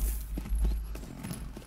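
Horse hooves clip-clop steadily in a horse riding and show jumping video game, a quick, close rhythmic series of soft thuds from an eager horse that keeps wanting to go fast.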